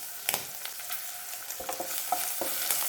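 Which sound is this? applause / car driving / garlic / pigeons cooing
garlic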